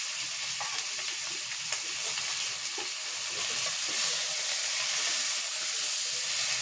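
Chicken cooks over an outdoor wood fire with a steady, close sizzling hiss and light crackle that carries on without a break, no voices present.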